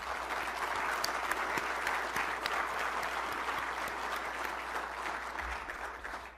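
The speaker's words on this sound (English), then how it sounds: "So I thought we might give him a round of applause and thanks." Steady round of applause from an audience at a cyber conference held at the National Defense University, dense and even clapping sustained throughout, fairly close.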